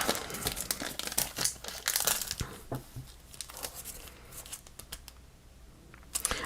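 Someone handling 6x6 craft papers and envelopes, with close, crisp rustling, crinkling and sliding of paper in irregular bursts.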